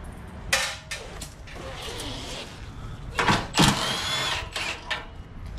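A power drill spins out skid plate bolts underneath a 2017 Lexus GX 460 during an oil change, with several short whirring bursts, metallic clatter and handling noises, up close in a garage.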